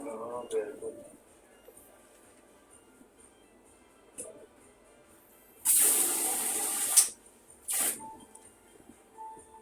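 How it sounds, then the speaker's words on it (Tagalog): A household tap, earlier shut off because it was dripping, is turned back on and water bursts out with a loud hissing spray for about a second and a half, then a second shorter gush, after faint voices and small clatter. "Pagbukas ng gripo, kaya pala nakasara, sumitsid doon"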